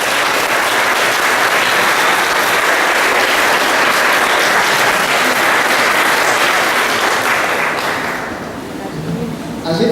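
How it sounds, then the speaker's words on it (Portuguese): A church congregation bursts into loud, sustained applause that fills the space for most of the stretch, then begins to thin and fade near the end. "Uma grande salva de palmas."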